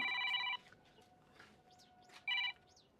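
A telephone rings in two bright electronic bursts, one at the start and a shorter one near the end, over a quiet room with faint chirps in between.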